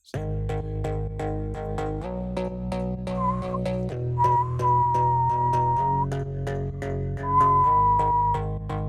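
A steady high, unwanted whistling tone from a bass synth rings out over a looping bass-heavy synth line, appearing in sustained stretches.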